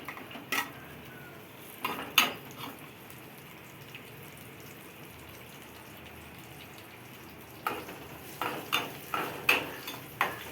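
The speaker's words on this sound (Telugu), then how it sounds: "వెల్లుల్లిపాయలు వేసేసుకుంటున్నా" Garlic goes into oil for a tempering while a spoon clatters and scrapes against the pan in bursts, separated by a quiet stretch of faint frying hiss, close and soft.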